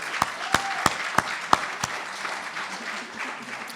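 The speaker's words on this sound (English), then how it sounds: "That deserves a round of applause." At a wedding reception during the speeches, a handful of guests clap sharply about six times in a quick, even rhythm, then the clapping trails off into quiet room murmur.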